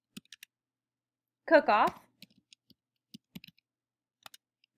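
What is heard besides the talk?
typing on a computer keyboard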